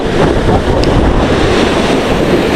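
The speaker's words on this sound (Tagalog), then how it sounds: "Aba, laki na alon!" Strong wind and big ocean waves roar steadily around a small fishing boat trolling at sea, a loud continuous wash of wind buffeting and surf with no voices.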